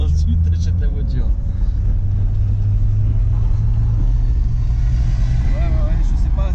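A Corvette's engine rumbles steadily from inside the cabin while driving, a deep low drone holding throughout as people chat over it.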